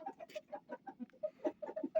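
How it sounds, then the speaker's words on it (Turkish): A rooster clucks in a quick run of short, clipped calls, fairly close and steady, with no talking over it. "Fizik olarak da en beğenilen horoz bu oldu."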